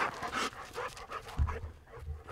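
A hunting dog out chicken hunting pants rapidly and close by, quick breathy huffs in an uneven rhythm with a faint low whimper partway through.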